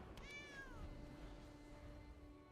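A single cat meow sound effect from a card video game, a short rising-falling mew followed by a faint lingering tone over quiet background.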